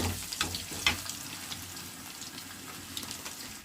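A tempering sizzles in a pan with gongura leaves added, soft crackling and bubbling with a few clattering stirs early on, then settling into a faint steady fry.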